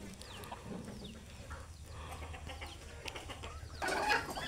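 Kadaknath and country hens on a farm clucking and calling intermittently at close range, with a louder burst of squawking near the end over faint background bird sounds.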